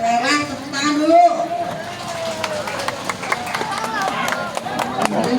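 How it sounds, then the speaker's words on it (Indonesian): Crowd clapping for volunteers and a women's Marawis group at a village gathering for a deputy regent's visit in Jatisari, Karawang, with scattered, uneven claps running under a steady voice talking over a PA. "tepuk tangan dulu"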